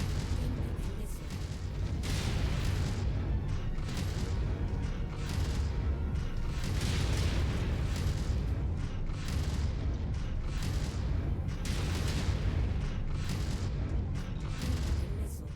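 Incoming missiles explode in Mechwarrior 5: Mercenaries amid battle noise. Repeated heavy booms and blasts rise over a constant rumbling din, with creaks of heavy machinery.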